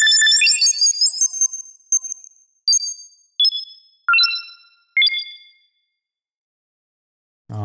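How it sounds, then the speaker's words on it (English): Bell-like synth notes processed through a frequency shifter in Phase Plant, with inharmonic, shifted overtones, ring out in a descending sequence, each decaying, then silence. "Some other classic effects that you might hear on here would be a frequency shifter."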